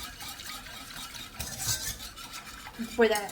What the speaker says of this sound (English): And then we're just going to give this a stir.